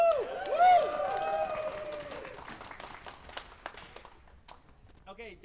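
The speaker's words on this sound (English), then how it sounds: "And another round of applause for a great pride." An audience applauds and cheers at a rehearsal. A whistle-like cheer and voices ring out near the start, then the clapping thins to scattered claps as the sound fades.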